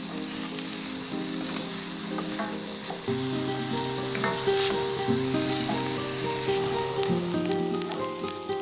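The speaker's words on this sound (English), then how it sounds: "And now I'm adding the onions. Keep stirring them so that they don't burn." Onions sizzle in a pan for an asparagus risotto, with a constant close frying hiss and scraping stirs throughout, and a steady musical tone runs underneath.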